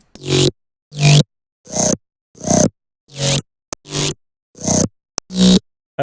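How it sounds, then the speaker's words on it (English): A growling bass patch from the Serum synthesizer plays as eight short, punchy, gritty notes in a steady rhythm, with silence between hits. Each note snarls with heavy distortion. "it's the main growl. It sounds like this."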